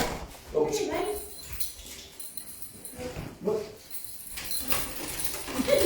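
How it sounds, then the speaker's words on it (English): A dog whimpers in short, high whines at an open-mic poetry evening, coming in several brief bursts with people talking in between. "Good dog."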